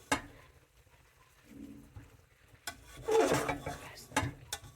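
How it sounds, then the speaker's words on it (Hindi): A spoon stirs chicken tikka biryani in a pot, making soft intermittent scrapes and a few sharper metallic clinks, quiet and close, with no talking. "इसको साइड से एक मरतबा हल्का सा हम इस तरीके से मिक्स करेंगे"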